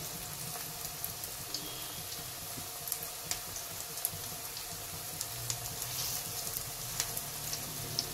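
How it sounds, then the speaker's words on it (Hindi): Colocasia leaf pakoras fry in hot oil, giving a soft, steady sizzle with scattered small crackles and pops throughout, fairly quiet and with no voices. "एक तरफ ब्राउन होने तक इसको फ्राई करेंगे"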